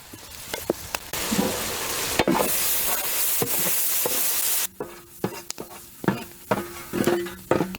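Chopped tomatoes hit a pot of hot coconut oil and ghee for a village chicken biryani, first with a loud, hissing sizzle, then quieter frying punctuated by repeated clacks of a stirring spoon.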